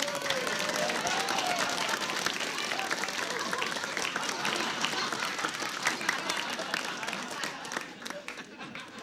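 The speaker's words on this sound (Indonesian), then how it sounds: "Iya, tepuk tangan." Studio audience applause on a comedy quiz show: a crowd claps steadily and briskly throughout, fading slightly near the end, while voices talk over it.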